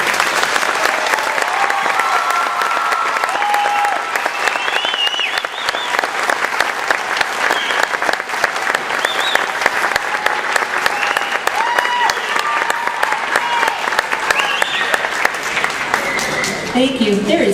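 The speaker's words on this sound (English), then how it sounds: "Big round of applause, please." An indoor audience gives students a loud, sustained round of applause, dense clapping that runs unbroken for the whole stretch, with scattered voices mixed in.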